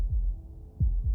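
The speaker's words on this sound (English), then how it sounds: "That was the sound of a heartbeat," A heartbeat in the video game Slay the Princess: deep, muffled low thumps, three beats in an uneven rhythm, heard alone with no talk.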